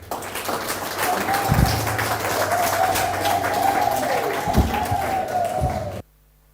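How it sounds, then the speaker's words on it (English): Audience applause at a national schools agroecology poem writing competition after a student recites, steady broad clapping over a hall ambience with a few louder thumps, cutting off abruptly near the end. "A round of applause for Daniel one more time."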